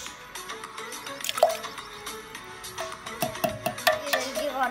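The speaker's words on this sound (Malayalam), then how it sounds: "ഇനി നമുക്ക് 1 ടിൻ ഫുൾ ഫ്രഷ് ക്രീം ഒഴിക്കുക." A tin of full fresh cream pours into a mixing vessel for bread pudding cream, with soft dripping, glugging liquid sounds and a few light clinks against the container, recorded close up.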